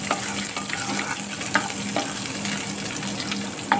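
Onion and garlic fry in hot oil for a brinjal kara kulambu, giving a loud, constant close-up sizzle broken by light stirring clicks, with no speech.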